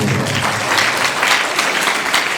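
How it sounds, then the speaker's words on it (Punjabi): A church congregation claps loudly through a sermon, a dense and steady wash of applause that holds at full strength without pause. "ਤਾਲੀ ਮਾਰੀ ਜ਼ੋਰ"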